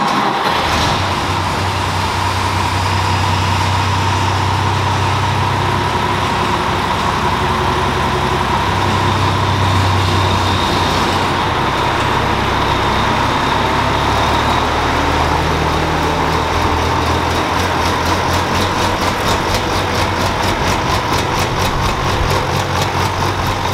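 An International tractor engine runs steadily inside a dark barn, a continuous low idling rumble with a droning hum, close and fairly loud, with no talk over it.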